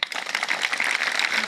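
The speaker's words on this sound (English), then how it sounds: "Please clap for him again." Audience clapping for a speaker after a talk, a dense, steady patter of many hands close by, brief and alone without voices.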